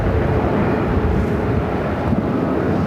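Airliner taking off from runway 7 left at Phoenix Sky Harbor airport, a loud steady roar of jet engines with wind buffeting, heard up close and continuous throughout.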